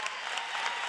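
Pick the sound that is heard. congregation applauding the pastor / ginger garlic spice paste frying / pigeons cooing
congregation applauding the pastor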